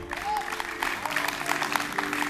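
Audience applause at a medieval armoured combat show, a steady wash of clapping from a crowd with some voices mixed in, moderately loud throughout.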